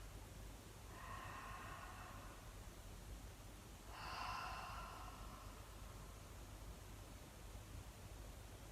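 Slow, audible breaths during a prenatal yoga session, two soft airy exhalations a few seconds apart over quiet background hiss.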